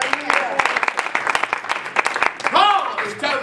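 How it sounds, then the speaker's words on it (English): A church congregation claps hands in praise, sharp irregular claps spread across the room, mixed with voices speaking and calling out over the clapping throughout. "Clap your hands to the Lord."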